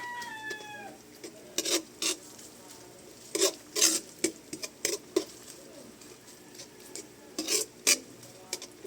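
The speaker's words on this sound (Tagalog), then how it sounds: "Kikiwar-kiwar lang po natin or halo-haloin hanggang sa lumabas ang kanyang kulay." Tomato paste stirred in a hot wok, with sharp spatula scrapes and taps against the pan in irregular bursts over a soft sizzle, close and clear.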